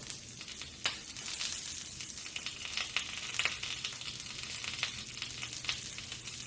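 A single beef steak fries in a pan with green capsicum, a soft steady crackling sizzle with scattered sharper pops, fairly quiet and close.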